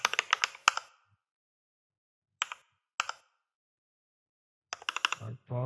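C++ code is typed on a computer keyboard in quick bursts of crisp, close key clicks separated by silent pauses, with a short rattle of keys at the end.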